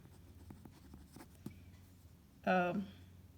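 Pen writing out a maths solution on paper, soft scratchy strokes and taps under a faint background, ending in a brief louder tonal burst.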